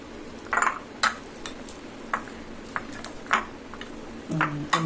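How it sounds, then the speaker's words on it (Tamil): Repeated soft squishing and scraping taps of a utensil mashing boiled potatoes in a pot or bowl, irregular strokes with a metallic clink near the end. "மெதுவாக உருளைக்கிழங்க நல்லா மசிச்சிடலாம்"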